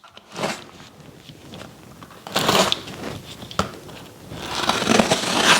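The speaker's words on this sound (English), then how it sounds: "Official seal breaker box opener right here. Let's go ahead and slice and dice." A box opener slices through the sealing tape on a shipping box, producing several close, crackling bursts of tearing and scraping at irregular intervals, with no talking.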